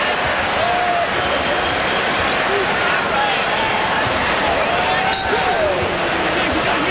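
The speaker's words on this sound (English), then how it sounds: "The crowd still buzzing over that, but obviously no basket" A college basketball arena crowd at the Marquette vs Duke CBE Classic championship keeps up a steady, loud buzz throughout, with sneaker squeaks and a bouncing ball cutting through and a commentator talking over it.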